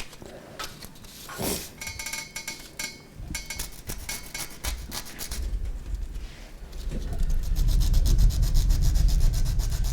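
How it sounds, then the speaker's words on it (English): Scratchy, rhythmic strokes of 150-grit sandpaper rubbing against a wooden salt shaker, close up, growing rougher and more continuous toward the end. "is I can take a piece of sandpaper. I think this is my 150 side."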